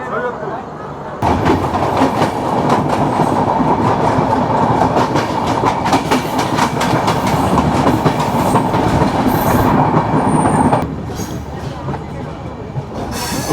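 The Drutojan Express rolls into Airport railway station in Bangladesh, a loud continuous rumble with rhythmic clickety-clack of wheels over rail joints, steady for most of the clip before easing.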